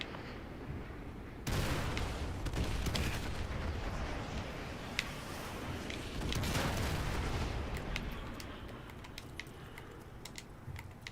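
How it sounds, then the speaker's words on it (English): Artillery strike in Call of Duty Modern Warfare 2 Remastered, a dense rumbling barrage of explosions and crackling gunfire that surges in, holds steady, then thins into scattered sharp cracks. "Ramirez, use your laser designator to call in artillery on those vehicles"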